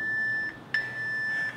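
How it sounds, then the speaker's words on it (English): Electronic workout timer beeps, a steady high tone broken by a short gap and a sharp click, clear and close with no talking. "We're gonna get the 3 beeps"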